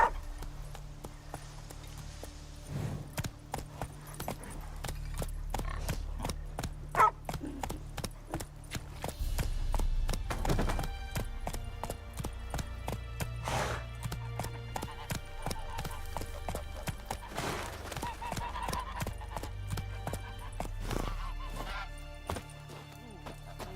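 Roach the horse gallops in The Witcher 3, a steady run of clip-clop hoofbeats held close and loud over a low game-world rumble, with brief faint voice bits.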